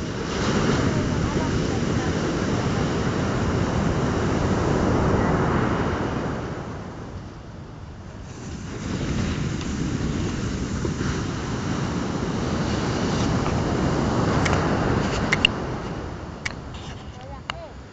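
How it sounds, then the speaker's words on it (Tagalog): Big ocean waves surge and crash at a beach in long swells, a loud roaring rush of surf that rises, eases off, then builds again, with wind buffeting the microphone and faint voices. "Lalaki ng alon."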